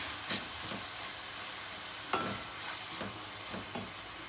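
Close sizzling and frying of tomato paste and onion in a pan, with repeated scraping stirs every half second or so.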